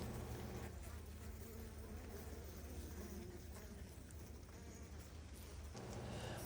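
Honeybees in a wintering hive opened during late-winter candy feeding give a steady, dense, close buzzing hum that runs unbroken through the whole stretch with no talk over it.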